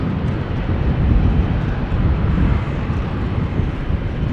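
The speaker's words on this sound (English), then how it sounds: "This is KLM Flight 1775 to Berlin, 737-900." KLM Boeing 737-900 airliner at Amsterdam Schiphol, a steady distant rumbling roar of jet engines mixed with wind, with no talking.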